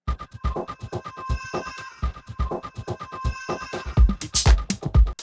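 Music run through the stock gate plugin in Pro Tools: a fast, choppy rhythmic track with sharp percussive hits and sustained tones that cut off abruptly, growing busier and brighter near the end.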